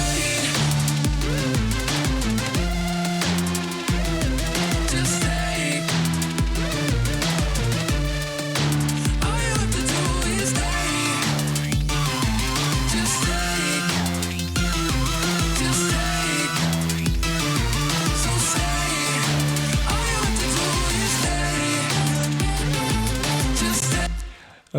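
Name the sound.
EDM track with several combined electronic parts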